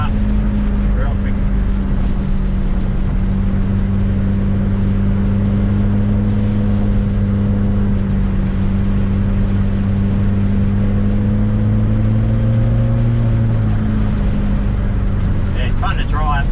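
An Ford car, either a Falcon XB or an Escort MK2, accelerates hard from around 2,500 rpm, its engine rising in a loud, continuous drone heard from inside the cabin, with a voice talking over it.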